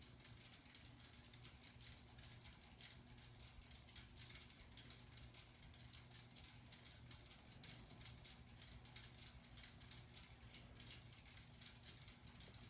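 A Hampton Bay St. Claire 52-inch ceiling fan with rosewood blades running in reverse, giving a continuous faint, fast mechanical rattle and ticking over a soft hum, steady throughout and heard alone.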